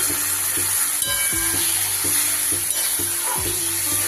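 Wash water from the spice bowl goes into a hot pan of posto curry with snake gourd, potato and bori, which sizzles loudly and steadily while a spoon scrapes the pan in a regular rhythm.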